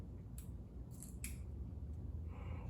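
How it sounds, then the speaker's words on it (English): A pair of scissors trimming a foam air filter for a STIHL 400c chainsaw, a few faint quick snips over a quiet hiss. "I'm just going to take a pair of scissors and"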